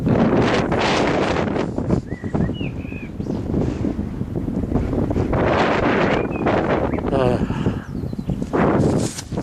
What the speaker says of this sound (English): I'm going to turn into the wind now and show you the snow clouds that are coming.